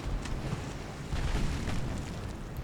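Naval gunfire and shell explosions from UA: Dreadnoughts form a dense, continuous rumble of booms and bursts, steady and moderately loud throughout with no talk.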